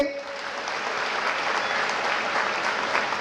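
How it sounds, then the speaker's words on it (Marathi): Sustained crowd clapping at a Marathi comic speech event, a thick even wash of hands from a large audience, with a faint voice under the applause. "एकदा टाळ्या होत्या"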